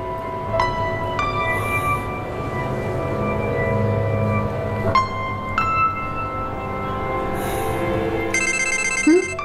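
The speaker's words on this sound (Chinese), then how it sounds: "电话。" A telephone rings indoors in a repeated electronic trill, several bursts of bright ringing over a low background hum, with a faster warble at the end.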